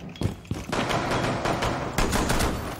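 Rapid gunfire bursts in Rainbow Six Siege, a revolver-only custom match, with loud sharp cracks clustering at the start and again near the end, dense and close over a continuous din of in-game action.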